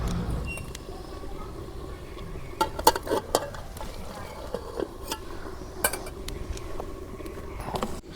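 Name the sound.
sautéing tomato and potato together in a pan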